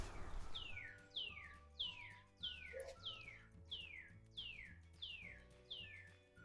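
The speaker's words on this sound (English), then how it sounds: "Just took a moment so you guys could hear the bird chirping." A bird chirps repeatedly in quick, evenly spaced downward-sweeping calls, fairly close, over a low steady hum.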